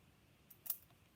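Scissors snip the end off a turkey feather quill in a single quick, faint cut against a quiet room.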